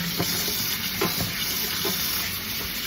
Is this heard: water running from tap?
yes